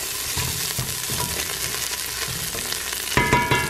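Ginger and deseeded chili sautéing in coconut oil in a pan for a vegan pumpkin soup, giving a steady close sizzle with occasional stirring scrapes and a brighter burst of frying near the end.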